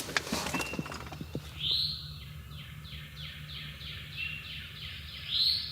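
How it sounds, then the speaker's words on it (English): Out in the woods during turkey season, a wild turkey calls with a rapid series of clear, repeated notes. The notes are moderately distant over a soft outdoor background, and sharper chirps come at the start and end. "There's a turkey."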